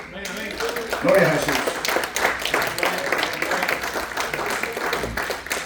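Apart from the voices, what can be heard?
congregation applause in church service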